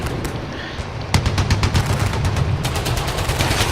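Gunfire from the video game Fallout 4 comes as loud, close, rapid bursts of shots, sparse at first, then an almost continuous automatic volley from about a third of the way in.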